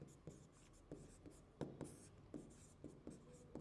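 Chalk or marker writing on a board in a classroom lesson, soft scratchy strokes tapping out in an uneven rhythm, faint and close with no speech over it.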